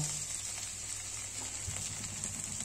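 Onions frying in a pan as the base for a restaurant-style butter chicken curry gravy give off a steady, soft sizzle that runs on evenly with a few faint stirring clicks and no talking.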